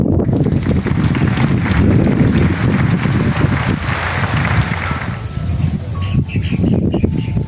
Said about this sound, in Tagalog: mahangin siya. Presko pa rin naman.